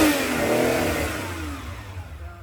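A 1979 Ferrari 512 Boxer flat-twelve fed by four triple Weber carburetors revs up loudly and close, then eases back toward a steadier, fading drone, with no voices.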